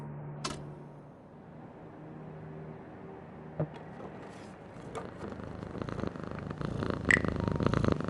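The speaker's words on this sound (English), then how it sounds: "There's a cat up there by an open window, enjoying the evening air." A cat in a video game purring by an open window of a law firm building in the evening air, a low steady purr heard faintly under rising ambient noise, with a few soft clicks.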